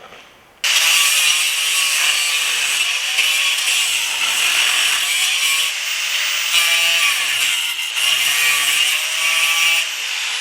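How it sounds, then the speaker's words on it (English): An angle grinder cuts through the bent ends of horseshoe nails, a loud, sustained high-pitched whine and grinding that starts abruptly and runs steadily with slight wavering in pitch. "take a angle grinder and cut them off on the bent end"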